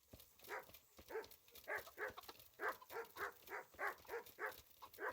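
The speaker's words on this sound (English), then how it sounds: "Yes, yes, you keep on barking." A dog barks in the medieval video game Kingdom Come Deliverance, a steady run of about a dozen evenly spaced barks at moderate distance, fairly quiet and with no talk over them.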